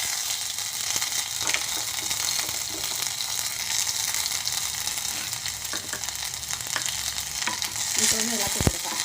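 Cumin seeds with crushed ginger and garlic sizzle steadily in a hot pan for a curd-based dish, a continuous dense frying hiss with occasional stirring scrapes and a sharper clack near the end, no talking.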